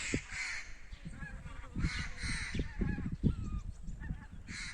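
A flock of geese honks and calls repeatedly in overlapping bursts, fairly close, with steady outdoor background noise and no talking.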